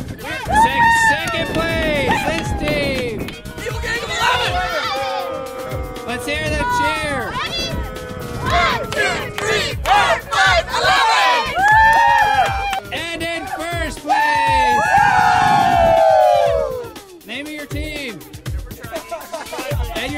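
A sports team shouting their cheer together during an employee training event, a loud sustained burst of many overlapping voices yelling at once, with excited crowd babble swelling and dipping throughout.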